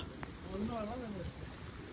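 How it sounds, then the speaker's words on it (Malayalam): Heavy rain falls in Vagamon as a steady, soft broadband hiss, with a voice talking over it. "ഗൈസ് ഹെവി മഴ, ഹെവി റെയിൻ."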